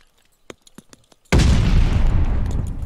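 A grenade detonates in a Call of Duty match, a sudden loud boom after a second of faint clicks and footsteps, followed by a sustained rumbling roar that carries to the end.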